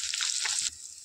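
Rohu fish frying in hot oil, a steady close bright sizzle that drops abruptly to a softer hiss near the end of a very short moment.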